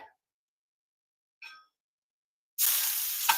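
Onions and garlic drop into hot oil in a cast iron pan for an American-Chinese stir fry, bursting into a loud, sustained sizzle after a couple of faint metal clinks.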